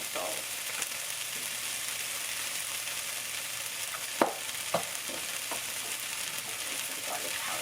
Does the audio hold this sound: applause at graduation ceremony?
no